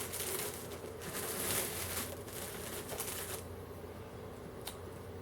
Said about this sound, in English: Let me just tear into this plastic here and we'll get it out.